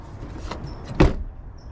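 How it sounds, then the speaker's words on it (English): A rear door on an EF sedan swings shut with one solid, close thump, preceded by light rustling and faint clicks. "show you guys the door closing effortlessly"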